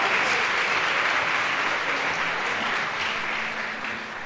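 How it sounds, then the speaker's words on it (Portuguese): A church congregation claps in dense, sustained applause, loud and even at first and slowly fading, with no talking over it. "Vamos aplaudir o Senhor novamente"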